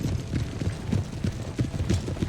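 Cavalry horses in the Total War: Empires strategy game, a dense rumbling clip-clop of many hooves moving together, steady and fairly loud throughout with no speech.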